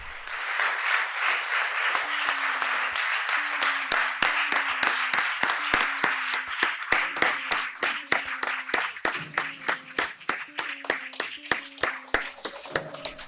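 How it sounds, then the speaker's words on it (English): Audience clapping at a live Washington DC event on labor unions, a sustained round of applause that settles into a slow, steady rhythmic clap, with voices talking over it. "can we quit clapping or what? Are we allowed to?"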